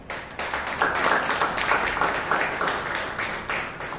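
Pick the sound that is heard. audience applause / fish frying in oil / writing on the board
audience applause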